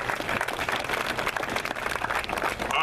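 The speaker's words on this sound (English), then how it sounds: "How about a round of applause for that?" A round of applause from an audience at an Air Force community run event, fairly loud, close clapping from many people, continuous and steady throughout.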